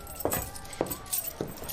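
Keys jangle as they are handed over, in three brief metallic rattles spaced about half a second apart, fairly close.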